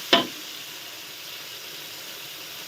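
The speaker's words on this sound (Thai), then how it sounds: "ผัดไปเลย ผัดเข้ากันเรียบร้อยแล้ว" Wide rice noodles with pork, egg and kale are stir-fried in a pan, a brief sharp scrape opening onto a steady, close sizzle that continues throughout.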